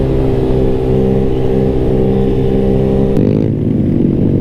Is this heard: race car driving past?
yes